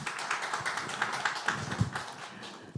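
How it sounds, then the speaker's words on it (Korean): Applause from an audience at a Democratic Party meeting with physical therapists, greeting a lawmaker as she comes up to speak; a soft, steady wash of clapping with a few sharper taps, fairly distant and low in level. "큰 박수로 환영해 주시기 바랍니다."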